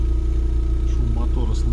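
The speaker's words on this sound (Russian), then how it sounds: "чувак просил меня один записать шум выхлопа из трубы" A Lada Vesta with its catalytic converter removed idles, its exhaust giving a steady low, pulsing drone, while someone talks over it.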